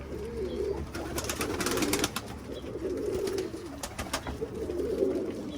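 Pigeons coo in soft, repeated low rolls, several birds close by against a steady outdoor hum.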